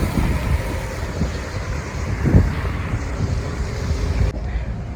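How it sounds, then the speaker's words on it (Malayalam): Strong wind sweeps the Sharjah corniche by the waterfront, a constant loud low rumble buffeting the microphone with no one speaking. "നല്ല കാറ്റുണ്ട് ഗൈസ് ഇവിടെ."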